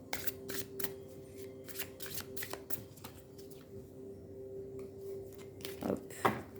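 Yi King oracle cards being shuffled by hand, a close, quiet series of quick riffling and flicking bursts in an irregular rhythm with small pauses between them.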